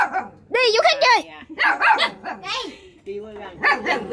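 A dog barks repeatedly in a home setting, several loud close yaps and yips in quick bursts, with people talking over and between the barks.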